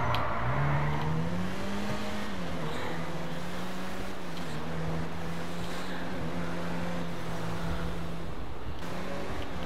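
In GTA 5, the Nissan GTR (Elegy) engine drones steadily, revving up and holding a sustained tone as the car drives at speed.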